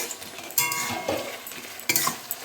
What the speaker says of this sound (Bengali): এভাবে ভালো করে আমি মশলাটা একটু কষিয়ে নেব।